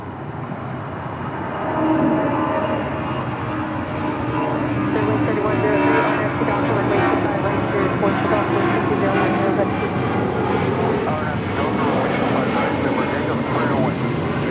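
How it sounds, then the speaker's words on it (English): FedEx 9090 cargo jet passing over LAX on its way to an air show, a continuous engine roar that swells and holds steady at moderate distance, with talk running over it. "that is FedEx 9090 headed down to the Pacific Air Show there in Huntington Beach"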